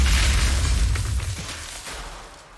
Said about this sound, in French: Le bruit d'une explosion l'interrompit.